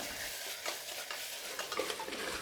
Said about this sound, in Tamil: இப்போ தக்காளி நல்லா வதங்கி வந்துருச்சுங்க